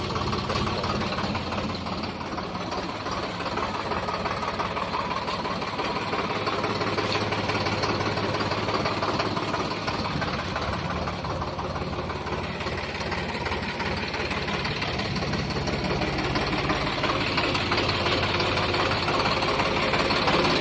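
A Swaraj 735 XM tractor engine runs at idle close by, a steady knocking diesel rumble that carries on unbroken for about twenty seconds.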